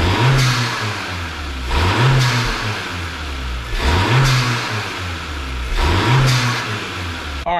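A Honda Civic Sport fitted with a Torque Solutions blow off valve revs in four repeated cycles, each engine rise ending in a short hissy burst of released air, loud and close with no talk.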